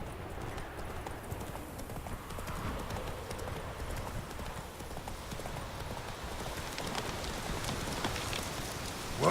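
Horse hooves in The Witcher 3 clop steadily along a road while rain patters heavily and evenly around them, the hoofbeats partly blended into the wash of rainfall.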